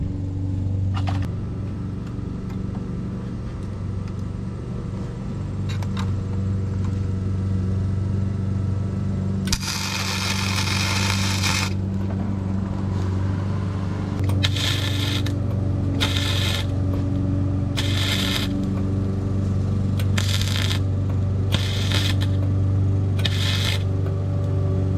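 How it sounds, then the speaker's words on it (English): A MIG welder tack welding a running board support on a car under restoration, short bursts of crackling buzz, one longer then several brief evenly spaced tacks, close, over a steady low hum of the machine and shop. "and then I'll just weld it on the top of it"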